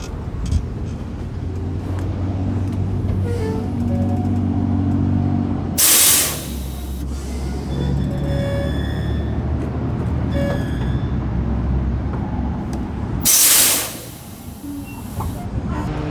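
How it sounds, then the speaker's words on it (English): Air brakes on a truck are applied during a DOT inspection test, with a loud low engine rumble and two sharp bursts of hissing air, then a quieter idle, nearby and with no talking. "Let's go ahead and hit this brake."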